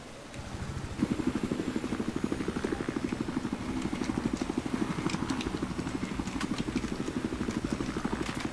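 A helicopter in the video game Battlefield 4, with a steady rapid rotor chop pulsing loud and close throughout, plus scattered sharp clicks and impacts over it.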